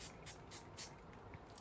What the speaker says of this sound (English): let's just start spraying everywhere basically